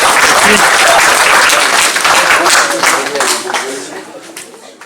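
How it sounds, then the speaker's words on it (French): Audience applause at a church Christmas party after a puppet show, dense clapping mixed with cheers and voices, loud at first and gradually thinning and fading toward the end. "Vas-y, applaudis, hein. Bravo."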